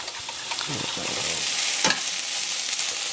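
Beef stir-frying in a hot pan gives a steady, moderate sizzle, with a few brief stirring scrapes and one sharper burst partway through.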